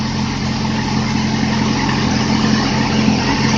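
2008 Yamaha R6R motorcycle engine mounted on a makeshift stand with straps and a hoist, running loud and close with a steady, buzzing drone and little change in pitch, on a cold day.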